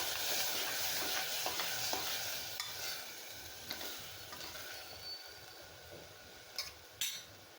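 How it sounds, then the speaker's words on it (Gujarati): Mung bean curry being stirred in a pan, a steady scraping stir over a soft sizzle of frying, with a few sharper clinks of the spoon against the pan near the end. "મિક્સ કરી લઈશું."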